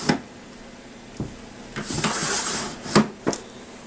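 A craft-storage drawer holding twine slides open and shut at close range, with soft wooden knocks, a longer scraping slide and a couple of bumps, and no talking.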